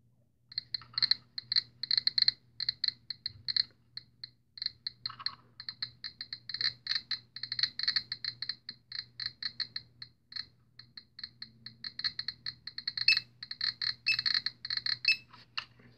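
A GMC 320 Plus Geiger counter beside an americium source gives rapid, irregular clicks, close and crisp, coming in dense bursts with brief gaps for about sixteen seconds and no talking.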